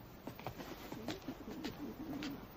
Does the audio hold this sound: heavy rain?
no